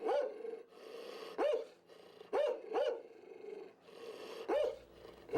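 A guard dog at a building-materials store barks in a string of about six sharp, fairly distant barks with brief gaps, over a steady low background noise.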